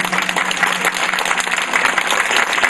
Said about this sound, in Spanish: vamos a darle un aplauso a la maestra